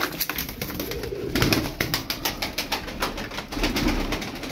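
Young tumbler pigeons cooing close by, with repeated soft, low throaty coos and rhythmic pulsing calls over a few seconds, and no talk.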